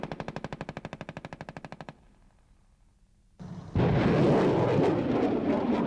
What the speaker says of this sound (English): the firepower the Bradley carries, the machine guns, the 25 millimeter, provides great capability to do that